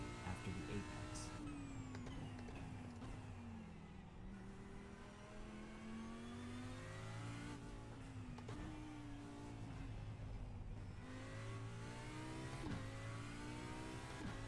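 GT3 race car engine in iRacing at Indianapolis, a steady mid-pitched drone that rises and falls with throttle and gear changes, heard close over the whole stretch with faint speech underneath.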